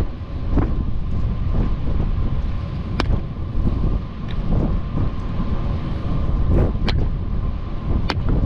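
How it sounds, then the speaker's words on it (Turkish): Wind blowing outside a house, a steady rushing roar heard from indoors, with gusts swelling and fading and a few faint sharp knocks and creaks. "Rüzgar sesini dinliyor sadece şu anda."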